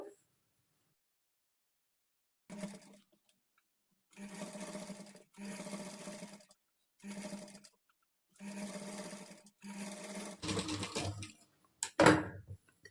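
A sewing machine top-stitches a lined blouse in several short, steady runs of stitching separated by pauses, close and clear, ending with a louder rustle.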